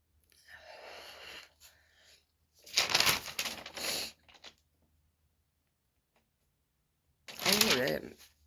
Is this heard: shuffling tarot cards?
yes